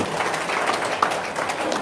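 An audience at an Indonesian talk session claps together, a brief, steady wash of hands from many people with no pause.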